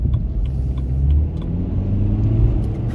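BMW 320d E92 diesel coupe, Stage 1 tuned, accelerating hard with wheelspin. The deep engine rumble is close and loud and strains steadily for three seconds with small fluctuations.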